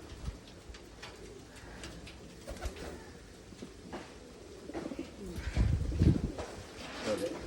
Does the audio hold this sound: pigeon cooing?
yes